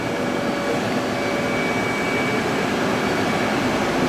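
Motor on the arm of a Willemin CNC machine moving, heard as a steady, loud mechanical whir with a faint tonal whine, running continuously without pause and with no talk.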